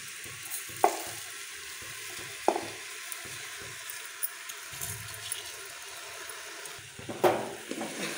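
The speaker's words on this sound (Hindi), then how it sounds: "अब इसे हम मीडियम फ्लेम पर थोड़ी देर भून लेंगे।" Rice and moong dal frying with vegetables in a pan over medium flame for khichdi, a soft steady sizzle broken by a few sharp stirring knocks, quiet and without voices.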